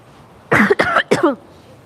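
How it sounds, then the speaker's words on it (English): Three quick, sharp coughs in a row, close and loud, then quiet. "I have cough."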